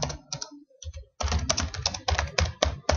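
Typing on a computer keyboard while text is entered into mapping software, with a few scattered keystrokes and then a dense run of quick close clicks.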